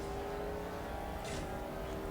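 Mercedes SLS race car engine in CSR Racing, a steady revving drone held at high pitch with a brief burst of noise midway like a gear shift, fairly quiet and without voices.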